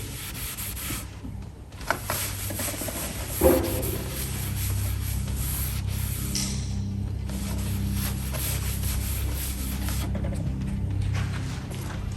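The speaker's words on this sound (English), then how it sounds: "Make sure you remove all that excess." A cloth wipes excess black penetrating oil stain off a wooden surface, producing a steady, close, continuous rubbing hiss with a couple of brief knocks. No talking.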